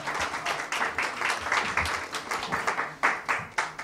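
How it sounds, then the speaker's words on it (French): Applause from an audience at a sports dinner, steady clapping throughout with a few sharper bursts near the end, loud and fairly close. "On applaudit pour Maître Dickens."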